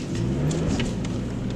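A Nissan Skyline R32 with a Tomei exhaust rumbles and revs briefly, a deep, steady throaty drone close by.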